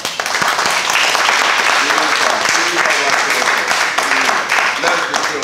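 A theatre audience applauds dancers at an end-of-program show, dense clapping filling the room loudly and steadily for several seconds without letting up.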